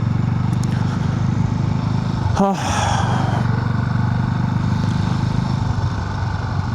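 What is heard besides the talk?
Sothassi 400 Classic motorcycle riding on road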